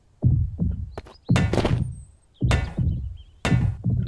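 An object gets smacked repeatedly in the survival game Mist Survival, about four heavy, hollow thunks spaced roughly a second apart, each with a short ringing tail, close and loud with quiet gaps between.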